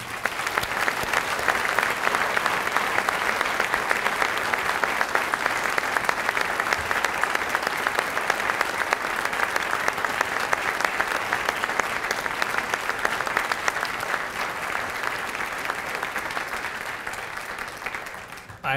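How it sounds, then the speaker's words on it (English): Sustained, dense applause from an audience at a police services awards ceremony, honoring award recipients; steady and full for the whole stretch, fading slightly near the end. "a round of applause for these outstanding individuals"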